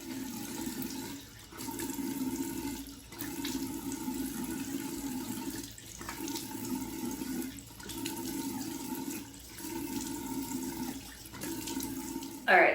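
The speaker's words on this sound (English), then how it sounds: "I just do a water rinse to kind of get off the product from last night" Tap water runs into a sink during a morning face rinse, a steady close splashing broken by several short pauses as the hands move in and out of the stream.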